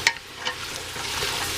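Carrots and other root vegetables, fresh or frozen, sweat in a soup pot for minestrone, giving a soft, steady low sizzle with a few light stirring scrapes near the start.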